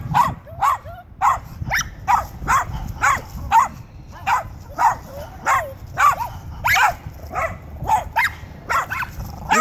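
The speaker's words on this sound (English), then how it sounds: "there's another dog barking over there" A dog barks repeatedly in a quick, steady rhythm, the sharp yaps coming one after another throughout.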